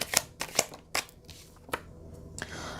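Tarot cards drawn from a deck and laid out on a surface: several crisp, quick card slaps in an uneven rhythm, followed by a softer papery rustle, close and fairly quiet with no voice.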